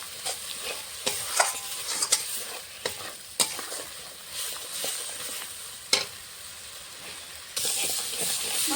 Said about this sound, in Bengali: মশলাটাকে এখন ভালো করে কষিয়ে নেব।